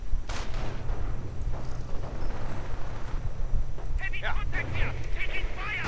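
Strafing gunfire rattles through a 1v1 real-time strategy match, with rapid bursts over a constant low rumble of battle, close and dense, and a voice breaking in near the end.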